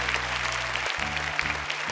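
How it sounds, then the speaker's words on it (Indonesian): Audience applause at a Hafiz Indonesia 2018 Quran memorization competition show, steady clapping filling the short stretch, with faint voices beneath and a low musical hum. "Tepuk tangan untuk Kak Fat."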